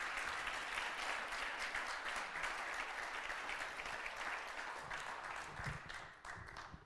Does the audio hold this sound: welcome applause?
yes